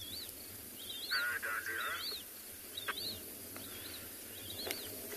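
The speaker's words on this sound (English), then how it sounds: "yellow-throated longclaw. Can hear one calling, but I just can't see it at the moment." A yellow-throated longclaw gives repeated clear, rising whistled calls in an open African savanna at sunset, mid-distance and fairly faint over steady background hiss and low rumble.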